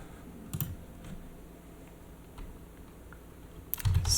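Typing on a computer keyboard while writing notes during Source SDK 2013 mod setup: quiet, steady keystrokes at close range, with a couple of slightly louder taps over a low background hiss.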